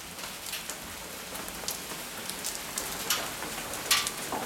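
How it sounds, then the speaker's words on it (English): Golf ball sized hailstones fall during a hail storm in Siena, making a dense, faint, steady patter with scattered sharper impacts, heard from indoors. "Golf ball sized hailstones"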